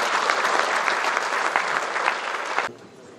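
An audience at a book launch gives a warm round of applause, many hands clapping steadily at a fairly loud level before the sound cuts off abruptly near the end, leaving quiet room tone.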